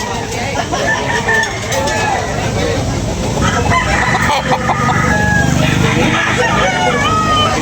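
Chickens and roosters at a rainy poultry market crow and cluck repeatedly, close and loud, amid busy crowd chatter and people talking, with faint traffic in the background.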